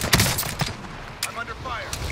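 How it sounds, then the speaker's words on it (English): Gunfire in a battle royale game, a few sharp separate shots cracking close, then a lull before more reports and some ringing tails, under a voice speaking. "I'm under fire."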